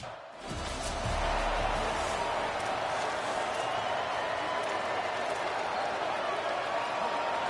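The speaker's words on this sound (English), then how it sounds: "They challenge this crowd to bring the energy, and I'd say they're doing that." Dense, steady crowd roar fills a stadium in a college football video game set at DKR Texas Memorial in Austin, swelling in after a quiet opening and holding loud and continuous throughout.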